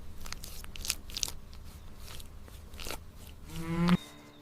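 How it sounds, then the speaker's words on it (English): Dairy cows grazing on fresh village pasture, with soft crunching and tearing bites of grass throughout and a short, loud moo close by near the end. "Grazing gives the cows natural exercise and fresh feed"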